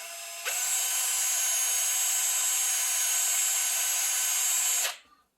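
A power drill bores through the center of a plastic RC crawler wheel hub, a steady high whine that starts abruptly, holds close and loud for about four seconds, then spins down.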